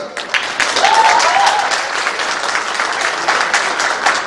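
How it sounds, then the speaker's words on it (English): Guests at an architects' dinner ceremony give a round of applause, a steady wash of many hands clapping throughout a large room, with a brief voice rising near the start. "Round of applause for him also."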